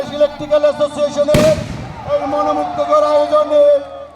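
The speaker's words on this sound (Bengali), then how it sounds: "এই তো আতসবাজি ফুটানো হলো" A firework bursts at an outdoor resort picnic with one sharp, loud crack partway through, followed by crackling, over a steady background of crowd voices and talk.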